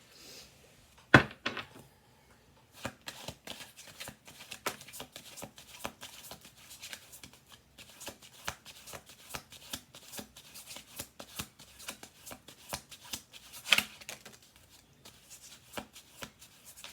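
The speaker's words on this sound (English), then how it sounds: "We're going to do 2 more shuffle throughs." Tarot cards being shuffled on a table: a long run of quick, crisp riffling flicks with a few louder slaps, close and steady, no voices.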